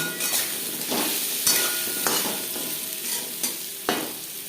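Spices and turmeric frying in a pan for a Bengali rohu fish curry, with a steady soft sizzle under repeated scraping stirs of a spatula against the pan, several strokes spaced about a second apart.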